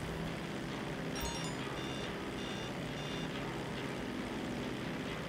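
Repeated electronic warning beeps from an aircraft flying too high in the video game GTA Online, playing over a steady engine drone with background game noise.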